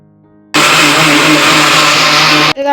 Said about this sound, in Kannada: ಮಿಕ್ಸಿಗೆ ಹಾಕ್ತಾ ಇದ್ದೀನಿ